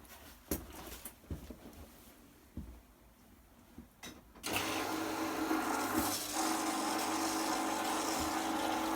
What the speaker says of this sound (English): you just put enough in until the wheel goes wet when you turn it on